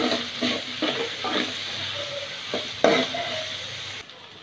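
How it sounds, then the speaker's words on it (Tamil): Onions stirring and sizzling as they sauté in a pan for a peanut kurma gravy, with repeated scraping stirs and a steady frying hiss, close and fairly loud, ending in a brief quiet. "இந்த மாதிரி வந்து ரெண்டு பெரிய வெங்காயத்தை வந்து இப்போ நம்ம ஆட் பண்ண போகிறோம். வெங்காயம் நல்லா வதக்கணும்."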